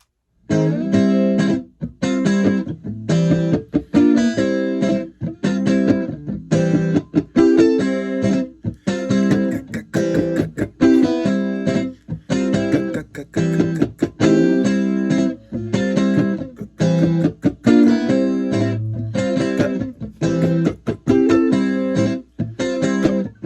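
Two interlocking guitar parts strum together in a steady, choppy rhythm, loud and up close, with dense repeated chord hits and no voices, from a song in a session breakdown.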